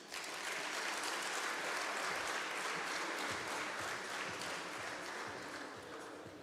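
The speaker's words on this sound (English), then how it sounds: "Let's give Mr. Gerard a round of applause again." An audience at a shopping mall's second-phase grand opening applauds steadily, dense clapping holding for several seconds before tapering slightly at the end.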